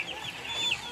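Broiler chickens in a backyard brooding house give soft, brief clucks and peeps at moderate distance over a faint ambient hiss, lasting about a second.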